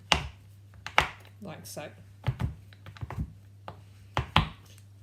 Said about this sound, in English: I'm going to start by cutting it down the centre with a sharp knife